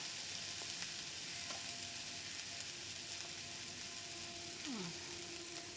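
Banana flower (mocha) fries in oil in a pan, giving a faint, steady sizzle with soft crackles and occasional light scraping, close by and with no talk.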